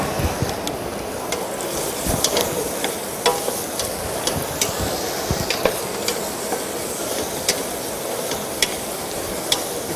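Halved cherry tomatoes fry in a pan with a steady dense sizzle and hiss, punctuated by frequent small crackles and pops, loud and close throughout with no talking.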